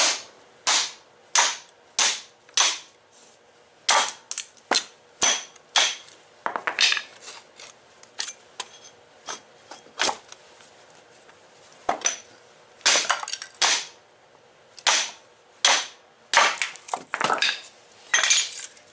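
A hammer driven down onto a hatchet to split kindling in a shop with a double barrel wood stove, producing a long run of sharp, close, cracking strikes at an irregular pace with short pauses and no speech.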